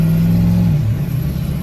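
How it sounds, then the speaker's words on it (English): A Ford PowerStroke diesel truck's transmission bangs hard into gear: a steady close engine hum drops abruptly in pitch partway through, then runs on rougher. "There's no way it's going to survive shifting like that, banging into gear and bouncing off."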